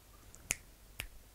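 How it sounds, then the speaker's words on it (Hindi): Two crisp finger snaps about half a second apart, sharp and close against a quiet background. "चुटकी कभी कभी तुम किसी को बुलाने के लिए करते हो"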